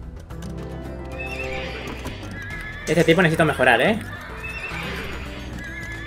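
Horse archers in Age of Empires 2 give a burst of neighing and hoofbeats near the middle, set against a game soundscape. Someone talks over the rest of it.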